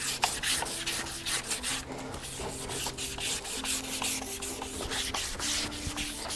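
A horse's hoof is rasped and polished around the edge, producing steady rubbing, sanding strokes in a continuous rhythmic series, close and moderately loud, with no talking.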